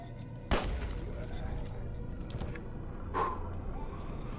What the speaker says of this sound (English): I guess I use the shot here. Make it a headshot.